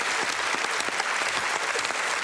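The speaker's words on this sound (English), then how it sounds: "Let's have a round of applause," A studio audience on a comedy quiz show claps loudly for a sniffer dog and its handler, a thick, sustained wash of applause with no talking over it.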